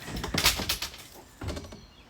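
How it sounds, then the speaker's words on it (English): A door on a classic Rover P6 car is worked open, with a few clunks and scraping knocks in a cluster, then a pause and another short clatter, fairly close. "Wow, the door opened. It actually did."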